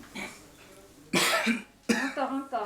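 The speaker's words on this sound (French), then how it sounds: "tu tousses 3 fois et tu me donnes" Two sharp coughs from a nearby person, the second followed by a short rattling breath, set against a quiet background.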